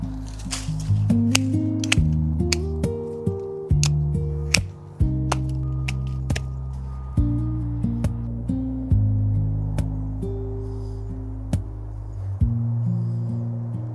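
Hand pruners cutting Meyer lemon tree branches, a string of crisp snips and clicks landing about once a second over steady background music, close and distinct.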